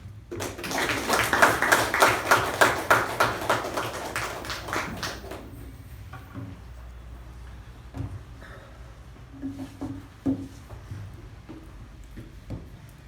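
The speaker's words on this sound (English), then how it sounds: "With a huge round of applause, please help me welcome the Master of Ceremonies for today, Toastmaster DTM Udang." A Toastmasters meeting audience gives a brisk round of applause with clearly separate claps that builds and then fades out, followed by a quiet room with a few faint knocks and murmurs.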